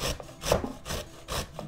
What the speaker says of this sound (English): So here we go, grate the beetroot.